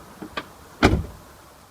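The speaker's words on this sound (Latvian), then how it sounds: "ko var izdarīt, ja slikti taisās ciet durvis" A car's driver's door that closes poorly: faint clicks of the latch come first, then a single close, solid slam with a short rattle fading out.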